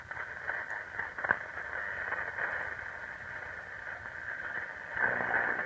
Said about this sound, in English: I'm gonna start on the shortwave band and give you a preview of that and see how good it performs on that,